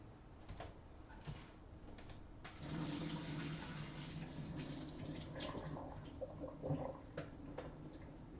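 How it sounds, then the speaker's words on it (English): Noodles and peas being drained through a kitchen strainer, with a broad wash of pouring water that swells after the first few seconds and runs steadily, with light clatter and splashes and no voices. "strain your noodles. And the same strainer with the peas."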